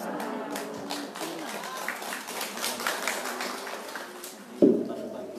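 An audience at a parenting seminar applauds Ibu Lilis Sulistianingsih, a steady wash of clapping running under a voice before a brief louder burst near the end.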